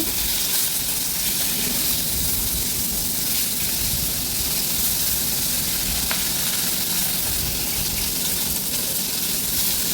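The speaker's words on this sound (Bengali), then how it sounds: "প্রথমে আমি এই যে পোনা মাছগুলো সুন্দর করে ভেজে নেব, একটু লাল লাল করে ভেজে নেব।" Small fry fish spit and sizzle in hot oil in a pan, a loud steady hiss with dense crackling that holds for the whole stretch without letting up.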